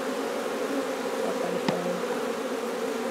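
Honeybees buzzing around an underground nest cavity outdoors after it was sprayed with a bee repellent, a steady close droning hum with one bee briefly passing louder near the microphone, and no talking.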